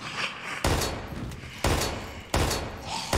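Three sharp, loud gunshots spaced roughly a second apart in the survival-horror video game Daymare 1998, each a sudden burst trailing off into a short decay.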